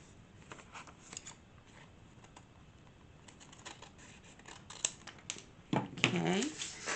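Scissors snipping through upholstery material for a handmade sari-silk-style tag, a few soft crisp cuts near and faint, ending in a louder rustling, crinkling burst.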